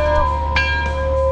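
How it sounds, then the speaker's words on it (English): A bell rings out as a sound effect in a car dealer ad for a lifted 2018 Ford F-150, a loud sustained metallic tone with a fresh strike partway through and ringing harmonics. "Somebody ring the bell!"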